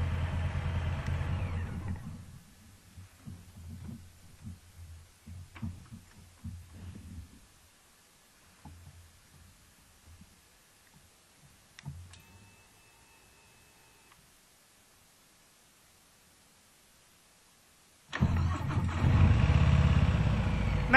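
A Harley-Davidson Sport Glide motorcycle engine rumbles at idle, a low throbbing pulse that fades to near silence mid-clip before a loud, close burst of engine noise returns near the end.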